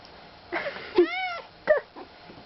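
A cat meows several times in greeting its owner after two weeks apart, with drawn-out, rising and falling calls at close range indoors and a voice mixed in.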